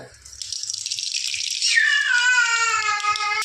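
Mustard seeds hit hot oil in a pan for Marathi-style idli sambar, giving a bright, steady crackling sizzle that swells partway through, with a thin tonal whine running over the hiss near the end.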